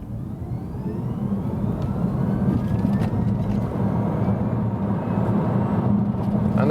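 A BMW i3 S electric car accelerating at full throttle on an open road, a steady, continuous low whir and road rumble heard from inside, building slightly and holding loud throughout with no talk.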